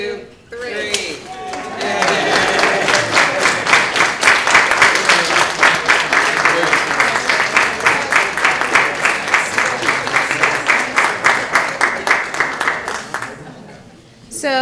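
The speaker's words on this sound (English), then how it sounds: "Round of applause for the Moll and Grant families." Sustained applause from a gathered crowd at a ribbon cutting ceremony for a hall dedication, dense steady clapping that swells after a brief start and carries for over ten seconds before fading.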